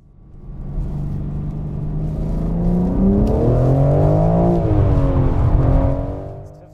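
A BMW M3/M4 engine revs loudly up close during a drift, its note climbing and holding high under sustained throttle, then easing slightly before fading out.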